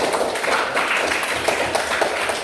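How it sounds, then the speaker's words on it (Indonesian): A primary school class claps for a group of pupils, a short burst of dense, even hand clapping with no talk over it. "berikan tepuk tangan untuk kelompok 1"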